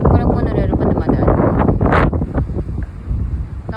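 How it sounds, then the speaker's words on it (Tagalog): Strong wind buffets the microphone at an outdoor monorail station, a loud, gusty roar that swells and dips while people talk nearby. "Lakas ng hangin pero sarap."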